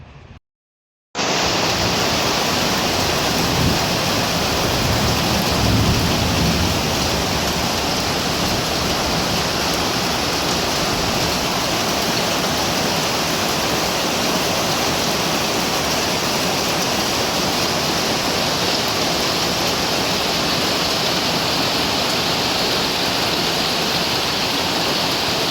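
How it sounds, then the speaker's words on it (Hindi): Heavy monsoon rain in Mumbai pours as a loud, dense, unbroken roar that sets in after a brief moment of silence and then holds steady throughout, with no voices. "मुंबई की बारिश मैंने आपको दिखा दी है,"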